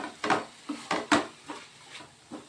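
A few scraping, clinking strokes of a utensil against a pan as turmeric, salt and cumin are stirred in while cooking drumstick flowers, spaced irregularly and close by, with no talking.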